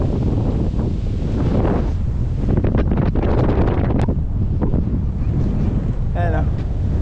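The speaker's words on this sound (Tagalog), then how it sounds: "Sarap ng hangin. Ang lakas ng hangin." Strong sea wind buffets the microphone with heavy, continuous rumbling gusts by the shore, with surf beneath and a brief voice near the end.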